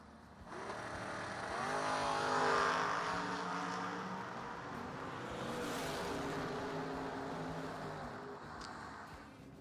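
A Camaro drag racing at Virginia Motorsports Park during a Twin Fifties event, its engine roar swelling loudly, easing, then holding a sustained high-revving drone across the run, heard from a distance over steady ambient noise.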